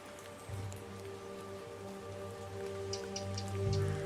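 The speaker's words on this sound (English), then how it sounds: "I still can't get over the fact it's raining" Steady rain falls across a garden at Stourhead, a soft even patter that grows slightly heavier toward the end, with occasional closer drops and a low hum beneath, no voices.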